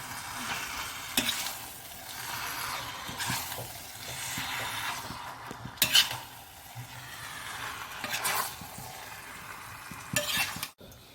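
Chicken stirred into a masala in a pan for a small chicken curry: a steady sizzle with repeated spatula scrapes, a few sharper strokes standing out, close and moderately loud with no talking.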